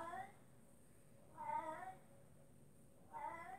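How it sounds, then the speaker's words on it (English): A cat meows three times at even intervals, faint and somewhat distant, in an otherwise quiet room. "I don't know if you can hear my cat in the background"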